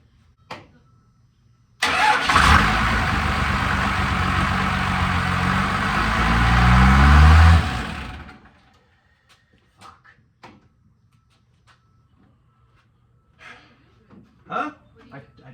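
A Dodge Cummins 12 valve diesel engine cranks and fires, then runs loud and rough for about six seconds, rising in revs before shutting off; faint clicks and shuffling follow.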